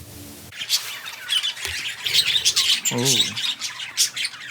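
Birds squawk in a garden, harsh calls repeating close by over a hiss of rustling, with a brief spoken exclamation near the start.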